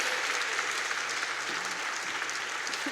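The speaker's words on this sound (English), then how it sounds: "Can you give her a massive round of applause?" Audience applause at the Creative Equals RISE 2022 event, a steady, moderately loud patter of many hands clapping with no voices on top.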